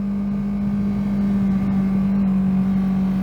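A Kawasaki Z650 motorcycle engine holds a strong, steady drone with a constant hum, loud and close, without a clear rise in pitch.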